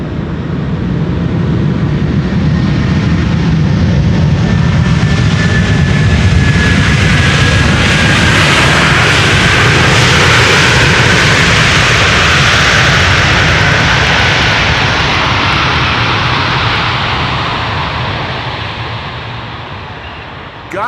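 A heavy aircraft lands on the Polderbaan at Schiphol, its jet roar loud and close, swelling and holding for many seconds before fading out.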